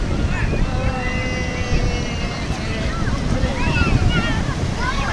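Large ocean waves surge onto a beach at Ambal, a steady broadband roar with gusting wind buffeting the microphone, while people talk excitedly over it.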